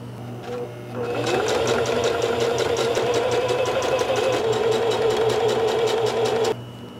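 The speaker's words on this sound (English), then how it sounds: "Now I want to sew from here, from the bottom upward to it" A sewing machine stitching a leather vest runs in a steady, loud, fast mechanical chatter for about five and a half seconds, starting at one second and stopping abruptly, with quiet room noise before and after.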